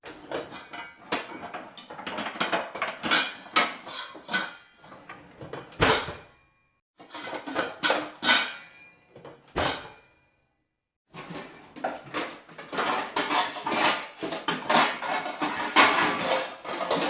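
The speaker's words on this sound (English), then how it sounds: "Signs like pots and pans being crashed together as a sign that Chica's in the kitchen." Pots and pans clattering and banging in a kitchen in the Five Nights at Freddy's video game, loud bursts of metallic crashes in irregular clusters separated by brief silences.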